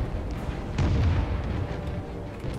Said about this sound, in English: So this time I'm gonna press space for the strategic bombing.